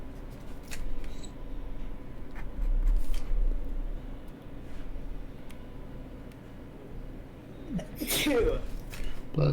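A single sharp human sneeze bursts out near the end of a long stretch of quiet room tone during a long production livestream, close and fairly loud, with soft background voices elsewhere.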